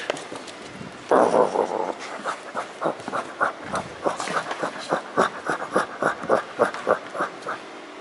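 A dog pants heavily and rhythmically close by, a fast, regular run of breathy huffs that begins abruptly and continues steadily without pause.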